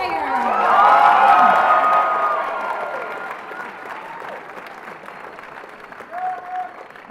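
A high school spring concert audience breaks into applause and cheering for the select choir, loud at first with whoops and shouts, then tapering to lighter clapping, with a brief voice near the end.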